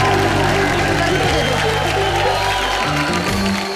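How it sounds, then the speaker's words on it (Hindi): Loud crowd applause and cheering from a studio audience on the Comedy Nights Bachao comedy show, dense and sustained, with voices mixed in; it thins out near the end. "जोरदार तालियां हो जाएं।"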